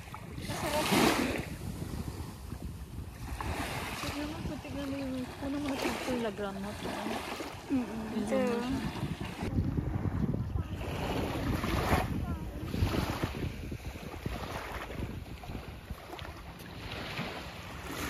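Wind-blown surf along a beach near Montpellier, France, a steady broad wash of waves and gusting wind with microphone buffeting, while people talk throughout.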